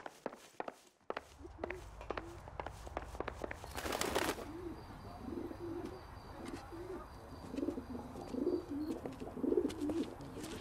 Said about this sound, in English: Drunk and in command of a carrier pigeon.